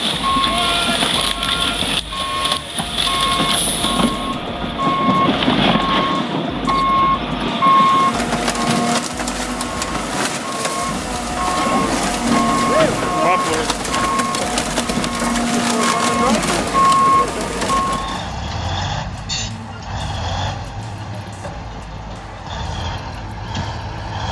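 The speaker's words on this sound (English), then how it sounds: "the John Deere 350 gently places the old Corolla in its spotlight and then crushes it" John Deere 350 excavator crushing an old Toyota Corolla car, loud sustained crunching and grinding of metal with repeated reversing beeps and heavy machinery noise, under a narrating voice.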